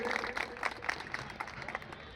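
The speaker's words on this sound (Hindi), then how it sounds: "एक बार तालियों से स्वागत करें।" A crowd claps to welcome a local councillor onto the stage at a Chaiti Chhath Puja festival. The applause is a quiet, thin patter of scattered, uneven claps heard from a distance.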